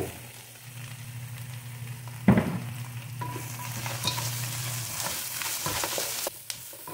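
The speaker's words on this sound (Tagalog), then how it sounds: "Akin nang gisahin ang chicharon karkar ng Cebu" Chicharon karkar from Cebu sautéing in a pan, a continuous low sizzle with occasional scraping stir clatters and a few sharper knocks, heard close and without any speech.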